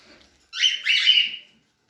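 Cockatiel chicks and their mother calling from a nest, a single close, harsh squawking burst of about one second, with no talk.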